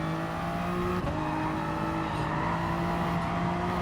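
A Toyota GR Supra Gr3 race car in GT Sport at Interlagos accelerates under throttle, a loud close engine drone with a brief dip and a shift near the one-second mark, then rising again.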